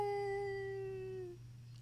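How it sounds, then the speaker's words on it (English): A single wolf howl, a long clear tone that sags slightly in pitch and fades after about a second and a half over a low background hum. "you hear a few howls off in the distance"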